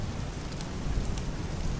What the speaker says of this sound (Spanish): La lluvia caía en torrentes